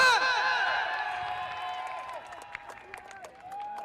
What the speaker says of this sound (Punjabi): ਸਿੱਧੂ ਮੂਸੇਵਾਲ ਨੂੰ ਕਿਹੜਾ ਪਿਆਰ ਕਰਦਾ ਸੱਚੀ ਤਾੜੀ ਮਾਰ ਕੇ